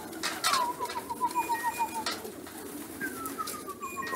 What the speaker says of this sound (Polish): Pięknie gołąbki wchodzą.